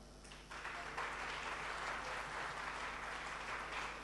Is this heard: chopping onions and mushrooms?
no